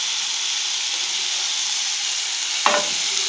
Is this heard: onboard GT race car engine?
no